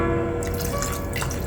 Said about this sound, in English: Add the water in.